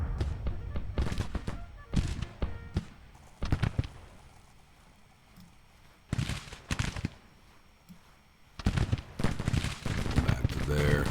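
Cannon blasts and musket gunfire crack in separate bursts across a Civil War battlefield in the strategy game Grand Tactician, with quieter gaps between volleys and a voice talking in between.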